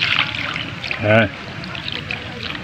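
Water is poured briefly onto a compost pile, a short gurgling splash close by, with faint background noise around it.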